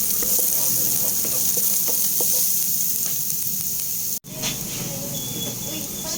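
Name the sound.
garlic sizzling while frying in pan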